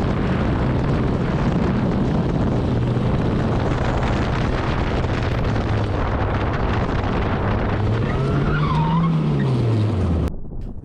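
Ariel Atom on cold tyres stepping out and sliding at around 50 mph, its engine roaring loud and steady under heavy wind buffeting, with a rising whine near the end before an abrupt cut.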